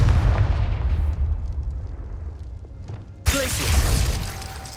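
Confringo blasting spell explodes in Hogwarts Legacy: a low rumbling roar that fades, then a sudden bright crack and shattering burst followed by sustained crackling debris.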